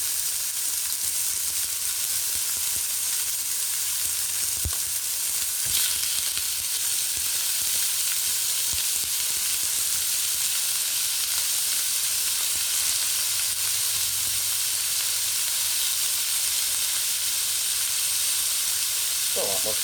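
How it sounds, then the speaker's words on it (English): Chicken pieces sizzle and fry in a hot pan, a dense continuous hiss that stays loud and even throughout with a few faint clinks. "Sizzle means that it's up to temperature."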